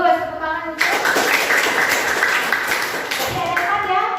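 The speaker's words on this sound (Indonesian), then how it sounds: "tepuk tangan untuk" A classroom of students applauds a classmate, steady clapping of many hands sustained throughout at close range, loud and dense, with the teacher's voice heard briefly over it.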